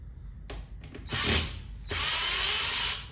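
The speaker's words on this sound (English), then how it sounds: "You need to probably have like a drill, or you can do this with a screwdriver too." A power drill whirs in short bursts, then runs in a sustained high-pitched spin, close and loud, while assembling a Kaleido M1 home coffee roaster.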